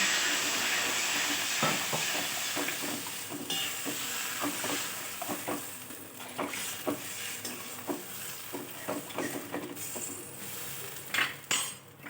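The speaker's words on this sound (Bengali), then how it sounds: "আলুটা কষানো ভালো হয়েছে এরপর আমি জল দিয়ে দিচ্ছি" Potatoes frying in a pan as water goes in, giving a steady hiss of steam and sizzle, with scattered clinks and scrapes of a spoon against the pan.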